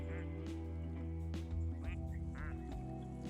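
Rubber ducks in Placid Plastic Duck Simulator give several separate cartoonish quacks over a steady low musical hum, with a soft voice faintly underneath.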